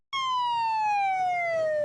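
An ambulance siren in a first aid PC game, a single loud wailing tone that starts abruptly and glides slowly downward in pitch, heard alone with no voices.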